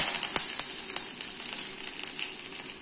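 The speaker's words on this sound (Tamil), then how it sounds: "இப்ப எண்ணெய் காஞ்சிருச்சு. கடுகு உளுந்த பருப்பு, கடுகு நல்லா பொரிய ஆரம்பிச்சிருச்சு." Mustard seeds, urad dal and curry leaves spluttering in hot oil for a tomato chutney tempering, a steady close crackle with scattered sharp pops.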